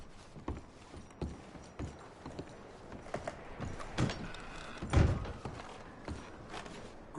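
Horses in Red Dead Redemption 2 clopping and shifting while gear is packed onto them, irregular hoof thuds and clunks at close range with a heavier thump near the end, no talk.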